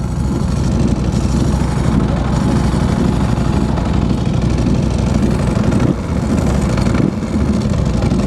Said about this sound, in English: when you're stopped, the main thing you hear is that dry clutch